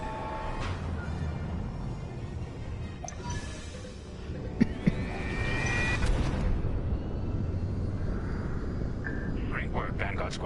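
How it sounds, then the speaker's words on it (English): A hyperspace jump in the Star Wars Squadrons space-combat game rises as a loud rushing roar with a swelling whoosh midway, under steady spoken radio chatter and engine drone. "hyperspace jump"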